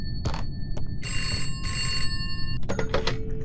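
A telephone in the indie horror video game Contemp rings in repeated electronic bursts over a rumbling low background, with a few clicks and thuds near the end.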